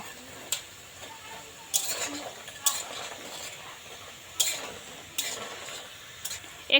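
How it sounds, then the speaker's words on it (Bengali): Small sweet gaja pastries of wheat flour and sugar frying in oil, with a soft steady sizzle and several sharp clicks as they are turned and stirred in the pan. "এবার কিন্তু হালকা হাতে এটা উল্টে পাল্টে একদম লালচে করে ভাজা লাগবে"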